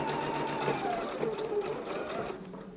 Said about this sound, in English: we're going to stitch it down at a 5/8 inch seam allowance